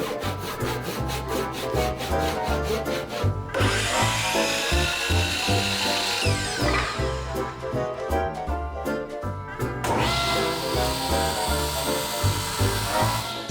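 A hand saw cuts a 45-degree miter in wooden molding, close and loud, with rapid rhythmic strokes that rasp in bursts separated by brief pauses.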